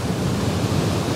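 Steady rushing of a waterfall in an autumn landscape at Rumbling Bridge, a continuous broadband roar heard from a short distance, with no voices over it.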